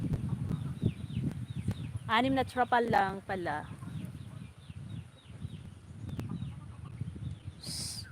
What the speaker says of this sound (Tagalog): Kaya binabantayan ko yung mga manok.